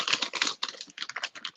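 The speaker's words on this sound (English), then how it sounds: "Who's typing? It sounds so loud." Rapid, close keyboard typing crackles in quick irregular bursts of crisp clicks, with brief pauses between runs and no voices over it.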